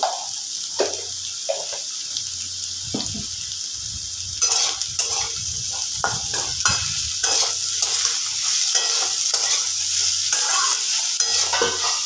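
Vegetables for chire pulao sizzle in a pan as a spoon stirs and scrapes in repeated bursts, close and alone, with a watery hiss in the background.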